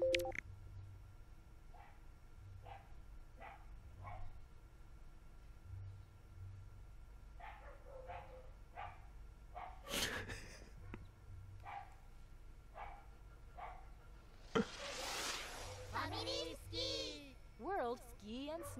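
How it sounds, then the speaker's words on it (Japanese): A dog barks repeatedly in short bursts through the scene, some barks close and sharp, with a motorbike droning low underneath and a voice briefly breaking in near the end. "犬がめっちゃ吠えてるんですけど"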